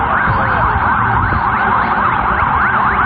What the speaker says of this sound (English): At least I hear sirens behind us